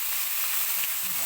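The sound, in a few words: chicken meat sizzling as it goes into hot oil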